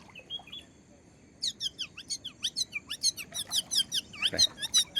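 A voice imitates a parrot with a rapid run of high, squeaky chirps and whistles, fairly close and bright, repeated in quick bursts after a quiet start.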